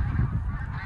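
A goose honks, loud and close, in a short burst of low, throaty, rasping calls that run together without pause.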